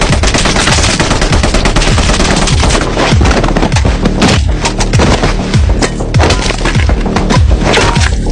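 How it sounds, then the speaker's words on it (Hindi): Loud, rapid automatic gunfire in a battle scene near a tank, with dense bursts of shots and crackling impacts continuing steadily with no pauses. "गोलियों की आवाज तुरंत पिछले अधिकारी को अपनी ओर आकर्षित कर लेती है"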